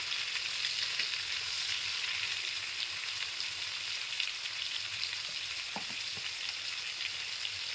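Prawns frying for a bhuna masala: a constant, close, hissing sizzle of hot oil, even and steady throughout, with a few sharper crackles and spatters and no voices.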